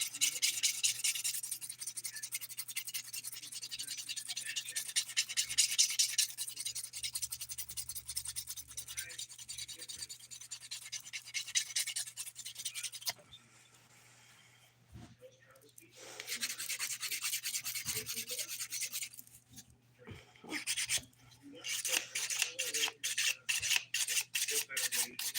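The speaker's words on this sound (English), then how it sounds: "I'm going to switch back to this more broken in file, 180 grit, and I'm going to file the line where the nude meets the blue" A well-worn 180 grit nail file rubs back and forth across a dip manicure with quick, steady rasping strokes, close and soft, pausing briefly midway before resuming in bursts.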